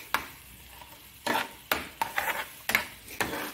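A spoon stirring gavarichi bhaji gravy in a pan, with several sharp scraping knocks against the metal at uneven intervals over a soft sizzle, close and clear, with no talk.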